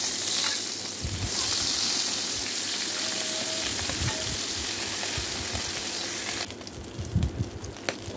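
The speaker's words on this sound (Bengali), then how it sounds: "মাছগুলো ভাজা হয়ে গেছে" Fish, coated in home-ground turmeric, frying crisp in a pan of hot oil; a steady, close sizzle and spatter runs throughout, with a few clinks and stirring sounds near the end.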